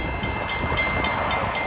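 Electric commuter train on the Port Jefferson Branch approaching the Oakwood Road grade crossing, a loud close steady rumble with regular rhythmic bursts as the cars pass.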